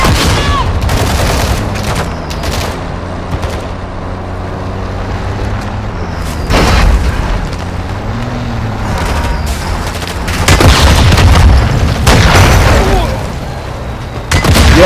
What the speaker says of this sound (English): Taking effective fire now!